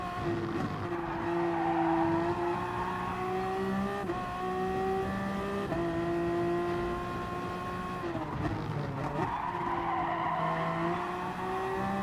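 Toyota hybrid Gr.1 race car in Gran Turismo Sport at Laguna Seca, its engine droning steadily at high revs with pitch dips and rises through gear changes and corners, alongside tire squeal, loud and continuous with no talk.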